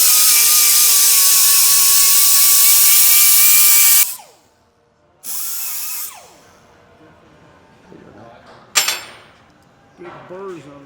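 Power tool polishing burrs off a part of a Liberty Process Millennium Series progressing cavity pump, a loud high whine for about four seconds, then short bursts and revving blips between quieter gaps.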